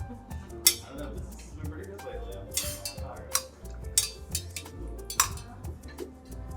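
Melted candle wax being stirred in a container at a candle-making bar: soft scraping and repeated light clinks of a utensil against the vessel, close and fairly quiet, with faint room noise in between.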